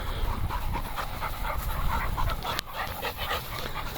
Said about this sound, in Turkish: Almanya'nın Leonberger ilçesine bağlı güzel bir köpek ırkı